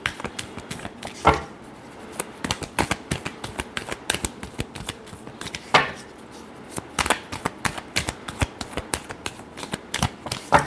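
Tarot cards being shuffled by hand, with a steady run of crisp riffling clicks and slaps close up, a few louder flicks standing out, and no voices.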